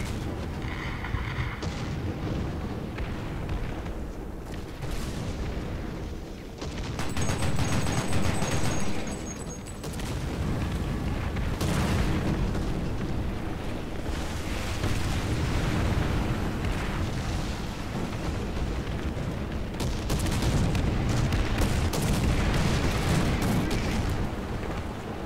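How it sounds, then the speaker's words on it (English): Artillery strikes land around a German Flakpanzer 38(t) Gepard in War Thunder, with repeated deep booming explosions and rumbling blasts over a dense, continuous roar of battle, loud throughout and with no talking. "Oh, he's coming with the arty fire again."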